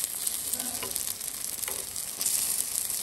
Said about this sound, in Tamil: பெருஞ்சீரகமெல்லாம் போட்டு தாளிச்சு